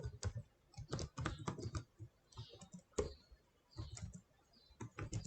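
Typing on a computer keyboard in quick bursts of close, crisp keystrokes separated by short pauses, with an occasional click, no talking.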